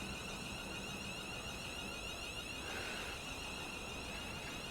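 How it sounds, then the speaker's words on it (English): Traction motors of a Class 350 electric train in a train simulator game on the West Coast Main Line give a steady, piercing alarm-like tone that holds continuously over a constant background hum. "Sounds like an alarm, but it is just the traction of this 350 train."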